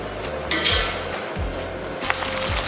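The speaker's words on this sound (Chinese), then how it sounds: "咱们把肉给它放到空锅当中，咱们不放底油啊，就直接给它煸炒出油" Pork belly goes into a dry, unoiled wok, with metal clanks and scrapes of a spatula against the pan at irregular intervals over a low, continuous sizzling hiss.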